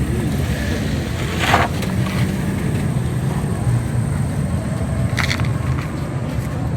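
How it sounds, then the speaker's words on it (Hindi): A 2006 Suzuki Mehran's engine idles in gear one with a steady, continuous low rumble close by, a faint wire touching noted, and no voices over it. "ये इंजन है जी गाड़ी का।"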